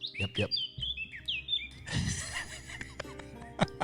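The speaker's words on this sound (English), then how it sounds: "Birds are chirping." Birds chirp in short, bright bursts on a nice day, moderately near, mixed with faint voices and other background sounds.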